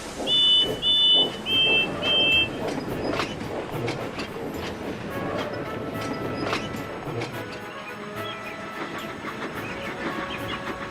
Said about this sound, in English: Bill and Ben heaved the long train of China clay westward